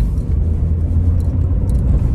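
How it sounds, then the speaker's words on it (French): A 16-valve supercharged car's exhaust gives a steady, loud, low rumble that holds evenly throughout, with no talk over it. "J'espère que vous entendez le bruit de l'échappement là."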